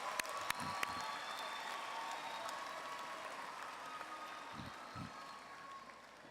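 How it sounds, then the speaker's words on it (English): A commencement crowd at a university ceremony applauds the evening's readers: a broad, moderately distant wash of clapping, with a few sharp nearby claps early on and a soft hum underneath. "How about a nice round of applause for our readers tonight?"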